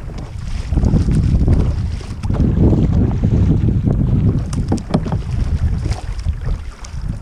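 Kayak paddling in a bay at Tahiti Iti, French Polynesia, with rhythmic paddle strokes and water splashes close by under strong gusting wind buffeting the microphone.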